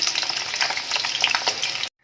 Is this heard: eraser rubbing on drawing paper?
no